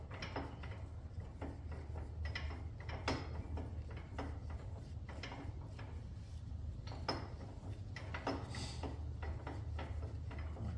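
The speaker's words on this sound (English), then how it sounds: "screwing this bolt super loose and then getting it back tight" Tools work loose a bolt on a Chinese AGT CRT 23 rubber track, making a quiet, steady run of small clicks and ratcheting ticks close by over a low mechanical hum.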